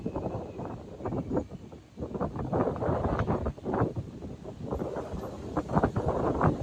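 Outdoor wind gusting against the microphone with steady low rumble and buffeting that rises and falls over several seconds, recorded while traveling alone toward Chengdu, China; no voices.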